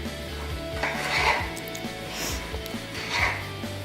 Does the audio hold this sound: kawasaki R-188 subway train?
no